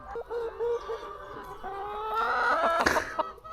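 Chickens cluck in short bursts at mid-distance, growing busier toward the end, over a low engine-like rumble.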